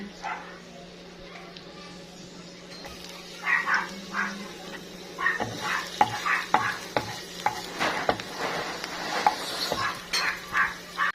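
Garlic frying in a home kitchen pan, with a steady sizzle beneath scraping and stirring clatter from a utensil, plus occasional louder knocks against the pan.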